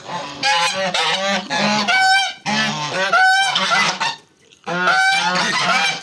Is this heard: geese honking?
yes